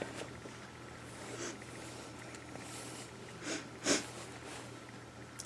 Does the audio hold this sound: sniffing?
yes